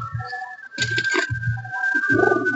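Pigeons coo in low, rolling phrases inside a breeding loft for high-flying pigeons, several close calls overlapping against a steady background hum, with no talking.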